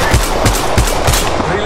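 Rapid gunfire in the Apex Legends Mobile video game, four or five sharp, punchy shots in a quick, even rhythm, loud and close.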